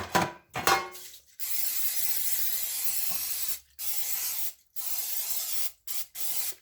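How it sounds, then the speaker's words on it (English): Several long hissing bursts of cooking spray into a cake pan, coating the sides and lightly the bottom, each lasting a second or more, separated by short pauses, preceded by a few clinks. "So I'm going to spray the sides of the pan to help prevent sticking and lightly on the bottom."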